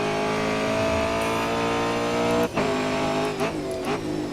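Race car engine in the Grid Autosport touring game, a loud continuous high-revving whine with strong harmonics, dipping briefly as it shifts or brakes into a corner and then climbing again, with no talk.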